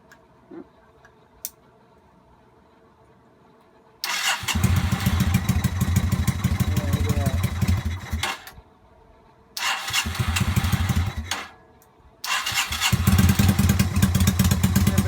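A Yamaha SRV250 motorcycle engine cranks and fires, revving loudly, cuts out briefly, restarts twice and settles into a rough, throaty idle close by.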